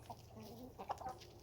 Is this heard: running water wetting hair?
no